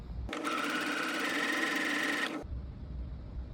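A sewing machine stitches a fabric slit closed in one steady burst of about two seconds, close and fairly quiet, with short pauses before and after.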